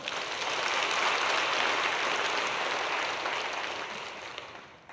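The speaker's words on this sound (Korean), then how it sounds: "박수 좀 쳐봐요." A church congregation at a Full Gospel church in Cheongju applauds in a soft, even wash of clapping that holds steady, then gradually tapers off.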